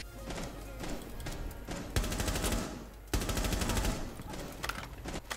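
Rapid bursts of gunfire from Rainbow Six Siege, with loud automatic volleys near two and three seconds over a dense, continuous background of game combat.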